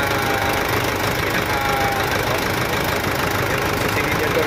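Yuchai 4.2 inline diesel engine with manual injection in a Forland truck idling, a steady dense rumble with knocking clatter held at constant loudness throughout, close by.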